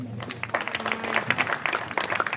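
Audience of mothers applauding a speech, a dense burst of many hands clapping at close to moderate distance, lasting the whole short moment.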